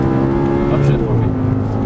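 Audi R8 engine on a race track, revving under throttle out of a corner, a loud droning tone close by with a coach's voice talking over it.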